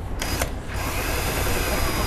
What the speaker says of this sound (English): Now we are ready to drill.